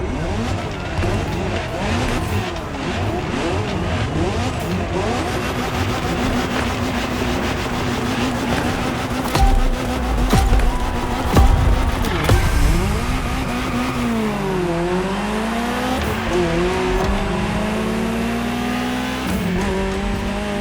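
A Ferrari GTO engine roars in The Crew Motorfest racing game, holding a steady high drone with rising and falling revs, gear shifts and a brief tire squeal, loud and close throughout.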